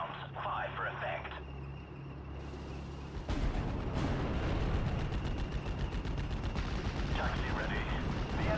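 Artillery fire in the WWII Normandy strategy game Steel Division: Normandy 44, with Sexton self-propelled guns firing: after a quieter stretch, a run of sharp, loud gunfire blasts and rumbling impacts erupts, with radio-style voice chatter mixed in.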